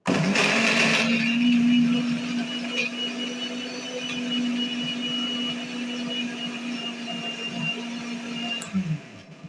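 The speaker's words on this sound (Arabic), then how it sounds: "رح اضربها على الخلاط لانه فرامة البصل ما عندي لسه ما جبته" A blender chopping onions whirs steadily for several seconds at close range, a loud motor drone that starts abruptly and winds down at the end.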